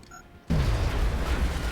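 A fragmentation grenade detonates in XCOM: Long War as a sudden loud boom cutting in after a quiet moment, followed by a sustained low rumbling roar that carries on to the end.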